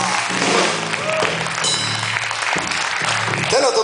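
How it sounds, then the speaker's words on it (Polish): Audience applause at a live comedy stage show, clapping mixed with crowd noise and voices throughout, fairly loud and continuous over a few seconds. "Brawa!"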